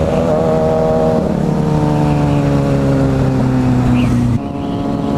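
Yamaha WR250R motorcycle engine revving loud and close for a wheelie, a sustained buzzing note that rises slightly, then cuts sharply near the end.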